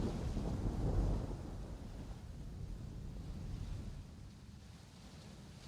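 A thunderstorm rumbles throughout, a deep, continuous low roar with a swell near the start and steady windy wash, no voices present.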